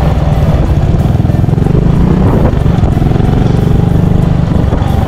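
A motorcycle engine idles steadily after a stator coil replacement, a loud, close, continuous putter with a low rhythmic pulse and light mechanical clatter, with no talking over it.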